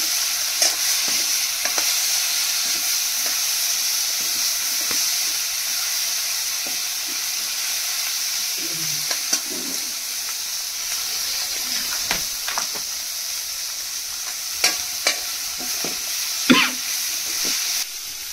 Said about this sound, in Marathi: काजू टाकलेले आहेत कढईमध्ये